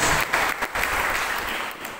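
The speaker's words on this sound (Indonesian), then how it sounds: "Beri tepuk tangan yang terbaik buat Tuhan Yesus Kristus" A church congregation at a revival service in an Indonesian GMIT church breaks into applause, a short, fairly loud burst of many hands clapping with a few sharper claps standing out, no speech over it.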